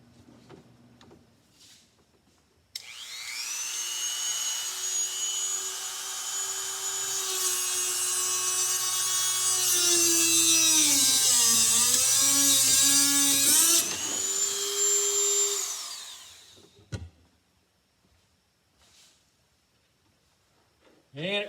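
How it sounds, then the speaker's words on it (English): A Dremel rotary tool with a small cutting wheel cuts through tensioned wire for a boat's gaff bridle, a loud, close, high whine that runs steadily for about twelve seconds, its pitch dipping under load, with faint handling noises before and after. "my Dremel tool here with a little cutting wheel on it works the best"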